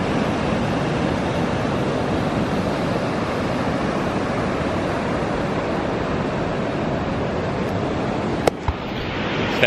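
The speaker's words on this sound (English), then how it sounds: "That sound of the ocean" Atlantic Ocean surf on the Florida coast, a steady, loud wash of breaking waves filling the whole stretch, with a brief sharp knock near the end and no talk.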